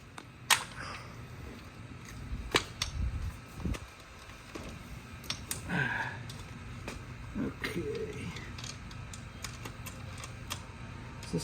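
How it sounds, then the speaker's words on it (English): Front battery of an Engwe X26 fat tire e-bike rattling, giving repeated sharp clattering knocks at uneven intervals over a low rolling rumble. "You can hear that battery rattling quite a bit."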